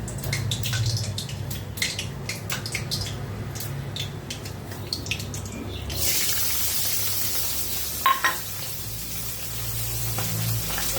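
Carrots and other vegetables frying in a pan give a steady sizzle and crackle throughout, which turns brighter and more spitting partway through, followed by a couple of small clinks, with no voices.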